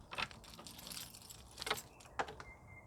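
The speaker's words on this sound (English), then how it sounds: "I've got the correct keys. Now it's time to unlock the gate to see these berries." Keys jangle and clink in several short bursts while a garden gate is being unlocked, close and fairly quiet, with soft handling noise between the rattles.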